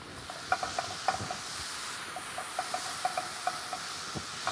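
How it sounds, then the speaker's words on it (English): Onions and tomatoes sautéing together in a pan give a soft, steady hiss, with light periodic taps of a spoon stirring close by. "Saute the onions and tomatoes together."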